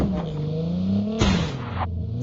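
A vehicle engine in the mobile battle royale game Call of Duty Mobile hums with a steady tonal drone, revving and shifting pitch over a few seconds, loud and close.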